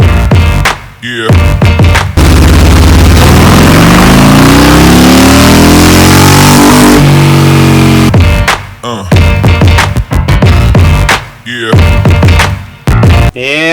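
Harley-Davidson 2020 Road Glide with an M8 131 kit on a dyno in a booth, loud close engine blips followed by a long sustained rev that climbs and falls, then more sharp throttle blips.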